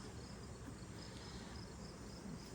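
Honeybees buzz around an open beehive in a faint, steady drone that holds even and unbroken throughout.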